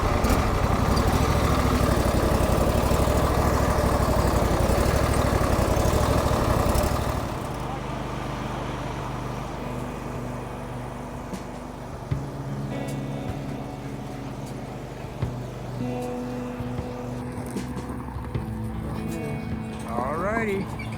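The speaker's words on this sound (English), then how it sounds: "there goes the Husqvarna Z246" A Husqvarna Z246 zero-turn riding mower engine runs loud and close, then drops to a quieter, steadier drone as it moves off, with people talking throughout.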